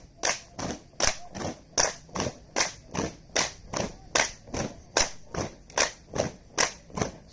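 Hands clapping overhead during a police training drill, a steady rhythmic series of about twenty sharp claps in quick even succession, moderately near with no talking.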